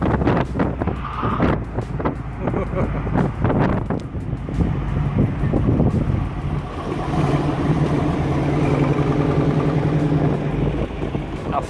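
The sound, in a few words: Ford Mustangs driving past on a race circuit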